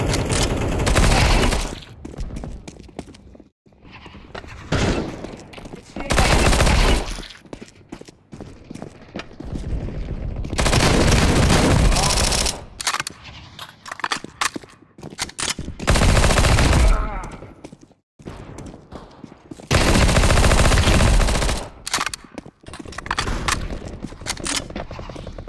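Counter-Strike: Global Offensive gameplay with repeated bursts of rapid automatic gunfire, loud and close, separated by footsteps and quieter moments, with a player talking now and then between the volleys.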